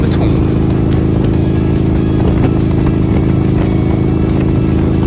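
A motorcycle cruises along a road on a long solo trip from the Gulf Coast toward Niagara Falls, its engine a loud, steady drone mixed with constant wind rush, close and unbroken throughout.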